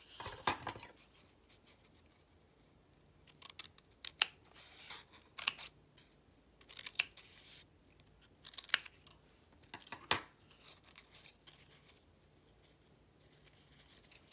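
Scissors snip through folded brown paper in short, crisp bursts, each cut separated by pauses and soft handling rustles, close and alone with no talking.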